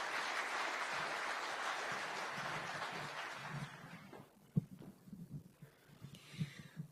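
Audience applause at an official ceremony with Kenya's president present, a broad round of clapping that fades out after about four seconds, leaving a few low thumps and murmurs.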